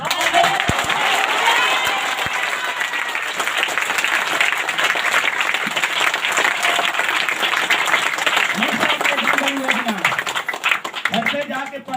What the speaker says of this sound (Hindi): ताली दो बाबू